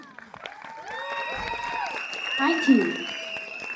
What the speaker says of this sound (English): Huge applause for the kids, everyone.